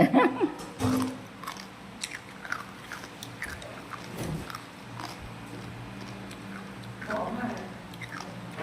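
Crunchy cannonball jellyfish being bitten and chewed close up, with repeated crisp bites and wet mastication under people talking.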